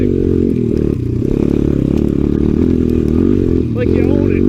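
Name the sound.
Honda XR 100 dirt bike riding in snow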